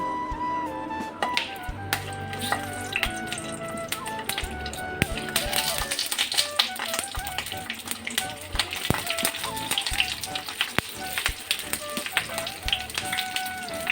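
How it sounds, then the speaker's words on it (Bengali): Bell peppers fry in hot oil, giving a busy crackling sizzle with sharp pops and clattering taps of a utensil against the pan. "তেলটা আমার গরম হয়ে গেছে, এখন আমি শিমলা মির্চিগুলো দিয়ে দেব।"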